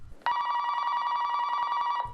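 A telephone bell rings in one continuous electronic trill lasting about two seconds, clear and alone in a quiet room.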